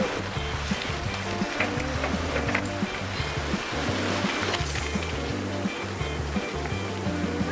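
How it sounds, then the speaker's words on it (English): Lone Star Geyser in Yellowstone erupting, a steady roaring rush of water and steam that holds unbroken throughout, with a low droning undertone beneath the spray. "Lone Star Geyser"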